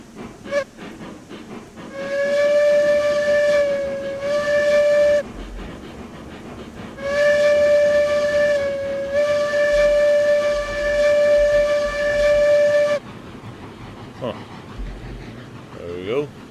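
Steam locomotive whistle in RailRoads Online, Pine Valley map, sounded twice as a loud harmonic tone of about three seconds then about six seconds, over a continuous low rumble of the engine working uphill.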